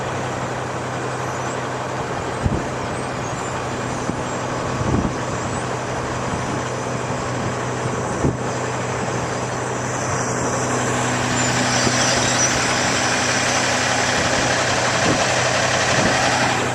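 Pup trucks idle and run steadily at a cold mix asphalt paving job on a rural road, a continuous low diesel engine rumble with faint passing thumps and no voices.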